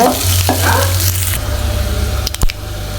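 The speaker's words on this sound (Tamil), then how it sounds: "ஆயில் நல்லா ஹீட் ஆகிடுச்சு வெங்காயத்தை சேர்த்துக்கலாம் பெரிய வெங்காயம் ஒரு பெரிய சைஸு நல்லா ஃப்ரை பண்ணிக்கோங்க" A large onion hits hot cooking oil in a pan, setting off a loud, close sizzle that settles into a steady fry, with a couple of sharp utensil clacks near the end.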